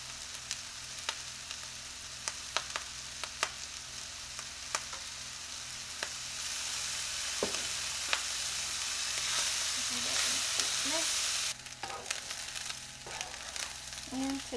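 Fried rice sizzles steadily in a hot pan with sesame oil and soy sauce, a continuous crackling fry punctuated by sharp clicks of stirring, briefly swelling louder toward the end.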